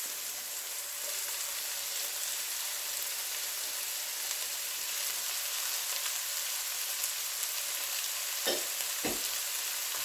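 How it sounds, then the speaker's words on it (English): Peppers frying in chili-infused olive oil at medium heat, giving a dense, even, rain-like sizzle that holds steady throughout, with two brief utensil knocks near the end and no talking. "Then I'm going to add in my peppers."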